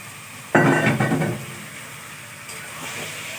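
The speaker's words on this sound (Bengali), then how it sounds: "এবার মাংসটা দিয়ে একদম ধিমে অনেকক্ষণ ধরে কষাতে থাকবো" Meat dropped into a pan of onion, ginger and garlic being slow-fried, giving a sudden loud sizzle and hiss that fades to a steady low frying crackle.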